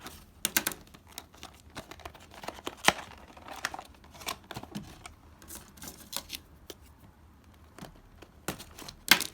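A taped cardboard box holding Avengers merchandise opened by hand: scattered sharp crinkles, rustles and tearing snaps, close and quiet, irregular with pauses between bursts, no speech.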